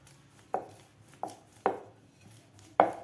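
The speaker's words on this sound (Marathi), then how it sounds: "अशा प्रकारे आता आपल्याला लाटून घ्यायचं आहे." A rolling pin works wheat flour and jaggery dough on a board, giving four sharp, hollow knocks spaced irregularly over a few seconds with no talking.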